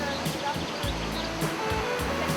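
Water rushing over the Krka river waterfalls in Croatia's karst hills, a steady broadband roar with slight surges, heard close and continuous.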